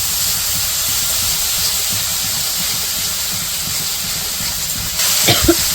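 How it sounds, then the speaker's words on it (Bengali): Ginger and garlic paste with chili powder and salt fries in a pan in a village kitchen, giving a steady loud sizzling hiss with a couple of stirring knocks near the end. "মশলাটা কষে নেব।"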